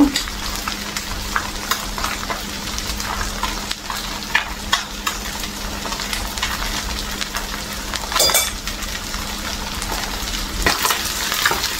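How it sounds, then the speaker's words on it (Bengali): Chital fish frying in mustard oil in a pan, a steady close sizzle and crackle running throughout, with a few brief clinks and stirring scrapes. "মাছটা আর একটু ভাজা হবে, তারপরে উঠিয়ে নেব"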